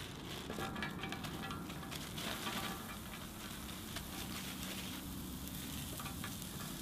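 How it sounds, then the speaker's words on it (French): Sweet potatoes in a little oil sizzle on a hot plancha griddle, a soft continuous crackle and hiss with faint patter and stirring, fairly quiet and without talk. "on va faire donc une plancha de pommes de terre douces"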